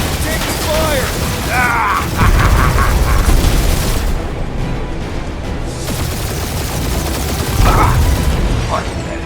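Sci-fi gunfire in a Guardians of the Galaxy video game battle, dense bursts of blaster shots and booms layered with clanking mechanisms, loud and continuous throughout.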